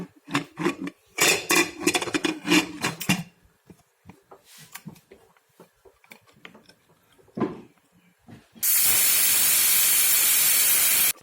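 A pressure cooker cooking dek vents steam under its lid, with clattering and bubbling at first, then a loud, steady, continuous hiss that takes over toward the end.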